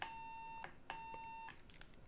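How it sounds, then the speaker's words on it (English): A square-wave tone from a Korg NTS-2 oscillator, a steady buzzy electronic pitch rich in harmonics, sounds in two separate bursts with a short gap between them, clean and alone. "you can hear it sending out a square right now"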